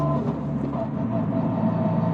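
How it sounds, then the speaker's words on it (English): A steady high-pitched dog-box gearbox whine sits over continuous engine and road noise inside a moving 500+ horsepower GR Yaris, loud and constant throughout. "you can hear the dog box whining away now"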